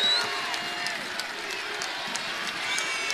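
A basketball arena crowd roars in a steady, distant wash of cheering and noise during a college game, Eastern Michigan versus Illinois State, with faint talk mixed in.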